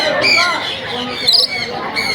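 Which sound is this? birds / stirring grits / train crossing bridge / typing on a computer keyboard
birds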